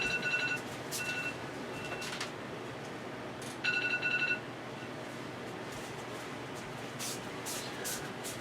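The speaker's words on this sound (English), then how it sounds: "Forgot to turn my phone alarm off." A phone alarm goes off indoors, sounding as faint electronic beeping in short repeated bursts with pauses between them. It plays alone, with no talk over it.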